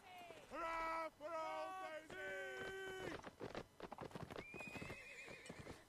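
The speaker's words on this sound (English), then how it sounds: "And the horses getting themselves good to go." Cavalry horses in Mount & Blade: Napoleonic Wars neighing and whinnying in several loud drawn-out calls, followed by a busy patter of hooves and clatter as the mounts move off, with a voice briefly in the mix.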